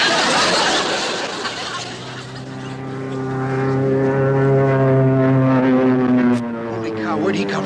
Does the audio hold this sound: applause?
no